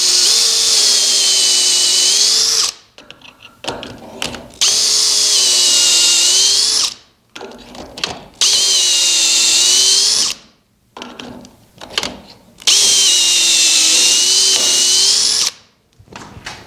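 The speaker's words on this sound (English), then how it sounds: "we're drilling through number 3" A power drill bores through the top board of a mitered-rail bedroom dresser in four long bursts, each a steady high whine of a few seconds, separated by short pauses filled with clicks and handling noise.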